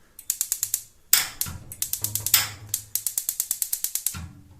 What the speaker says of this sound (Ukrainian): От я відхиляю важіль. І ото щось десь клацає.